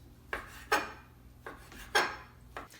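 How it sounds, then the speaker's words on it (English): A knife slices steak lengthways into thin strips on a board, giving five separate cutting strokes in an irregular rhythm, each a short scraping rasp with a sharp onset, close and fairly quiet, with no talking. "now we're going to go ahead and cut the steak lengthways"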